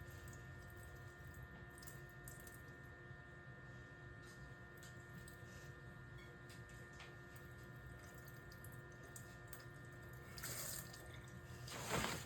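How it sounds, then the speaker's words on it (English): Tap water running steadily into a sink, rinsing stain off a microscope slide in a veterinary lab; a faint, even trickle with a brief louder splash near the end. "Now pouring off the rest of the stain under the tap water."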